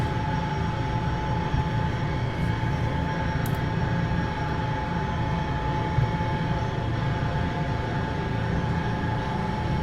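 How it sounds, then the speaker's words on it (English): Bell UH-1H Huey helicopter rotor spinning up after the starter disengages, in a flight simulator: a loud, steady turbine whine over a dense low rumble that fills the whole stretch, with no talking. "starter disengaged, rotor is coming up"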